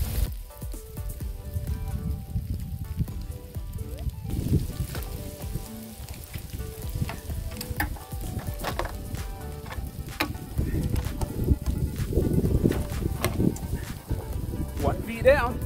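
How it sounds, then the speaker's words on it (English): Hail pelting down outdoors in suddenly cold weather on a geocaching outing, a dense, crackling patter that runs steadily throughout and grows heavier toward the end, with a voice occasionally heard over it. "now it's turned into hail"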